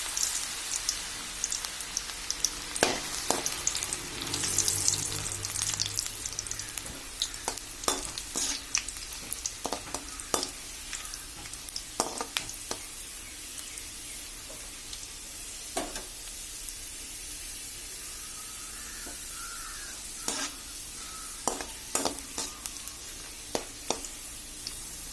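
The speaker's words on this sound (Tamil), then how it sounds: "எண்ணெய் சூடாயிடுச்சு. சக்கரவள்ளி கிழங்கு சேர்த்துக்கலாம்." Sweet potato sticks frying in hot oil in a kadai, a steady soft sizzle dotted with sharp crackles and pops, fairly quiet and close, with no talking.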